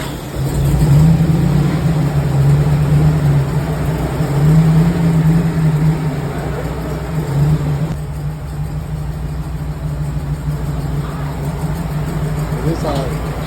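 A Jeep CJ7 with an LS engine swap drives on a joy ride, its engine a loud, steady low rumble that rises and falls with throttle, while people talk in the cabin.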